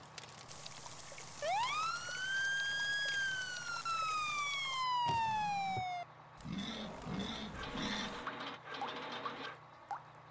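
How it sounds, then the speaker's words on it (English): A cartoon fire truck siren wails once, rising and then slowly falling in pitch, followed by rumbling engine and traffic noise. "This is a fire truck."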